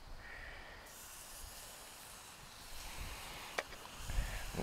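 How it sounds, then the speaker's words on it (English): NY strip steaks searing on a spray-coated grill of a Watchman stove give off a steady, faint hiss of sizzling fat that holds evenly throughout, with a few small pops and crackles near the end. "Nice sizzle."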